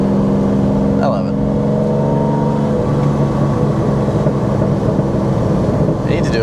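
A Lamborghini Diablo V12 engine accelerates with a loud, steady, close droning roar that holds throughout, while a person talks over it.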